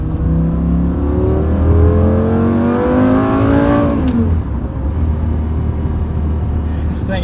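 A 2007 Lamborghini Gallardo with a gated six-speed manual accelerates hard, its engine note climbing loud and close before a shift, then settles into a deep, steady rumble.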